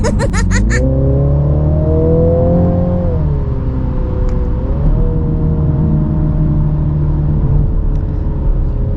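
A Mini Countryman JCW engine revs and surges hard as the car accelerates, a loud close rumble whose pitch climbs, dips, then holds steady.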